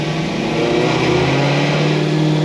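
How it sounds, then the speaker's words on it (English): A tuned Cadillac CTS-V with an automatic transmission accelerates hard through third, fourth and fifth gears, its engine a loud, steady close-up roar with a faint shift in pitch as it changes gear. "auto upshift."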